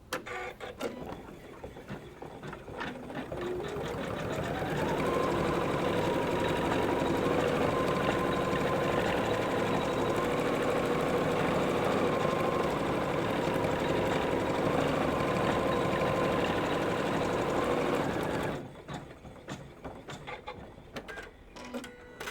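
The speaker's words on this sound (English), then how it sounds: "we're going to go ahead and stitch that in place" A sewing machine stitches fusible-backed wing fabric onto a butterfly tool pouch, running in one steady, continuous whir for about thirteen seconds, framed by quieter handling noise before and after.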